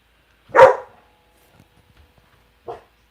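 A dog gives a single sharp bark indoors, followed after a short quiet pause by a softer, brief second bark or yip; no talking.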